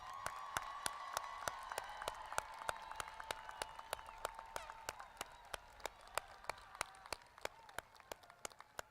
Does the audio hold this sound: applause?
yes